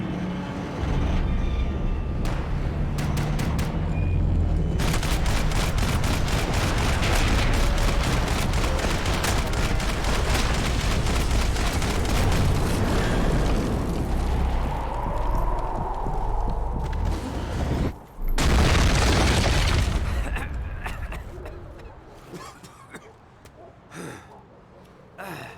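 Relentless gunfire and explosions in Max Payne 3: long stretches of rapid, loud shooting, a sudden heavy blast near the end, then scattered shots fading out, with voices shouting now and then.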